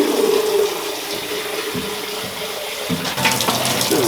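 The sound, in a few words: rinsing a polystyrene bee hive with running water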